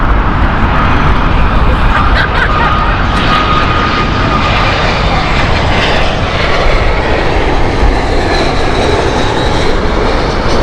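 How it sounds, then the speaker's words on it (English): Engines of a Qantas Boeing 787 roar loud and close as it takes off from an airport, a dense, powerful rumble that holds steady throughout. "Qantas taking off there. There's 787."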